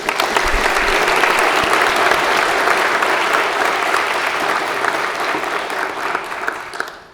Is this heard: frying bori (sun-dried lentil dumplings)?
no